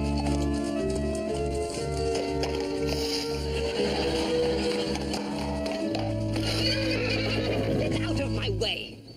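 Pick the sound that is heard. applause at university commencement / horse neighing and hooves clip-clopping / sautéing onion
horse neighing and hooves clip-clopping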